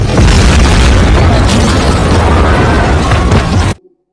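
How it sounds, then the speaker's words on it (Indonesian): A loud, sustained explosion in a courthouse courtyard roars with a deep rumbling boom for several seconds, then cuts off abruptly into silence. "Terjadi sebuah ledakan yang membuat semua orang yang berada di halaman pengadilan terpental dan terluka parah"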